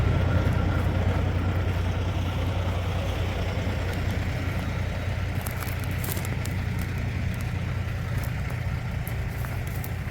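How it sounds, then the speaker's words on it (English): A truck engine runs steadily nearby in an abandoned ghost town, its deep idling rumble constant and loud with no speech over it. "let's get away from this noisy ass truck"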